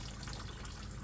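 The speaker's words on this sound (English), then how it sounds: "Just try to hose it out." A garden hose sprays water onto a grill in a steady, faint rushing gush, brief and with no voices.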